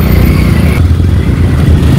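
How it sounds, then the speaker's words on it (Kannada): Motorcycle weaving through slow festival traffic on a road, its engine loud and close with a steady rumbling drone and slight shifts in revs. "ಬೈಕ್ ಆಗಿದ್ಕೆ ಮಧ್ಯದಲ್ಲಿ ನುಗ್ಗಿ ಹೋಗ್ಬೋದು"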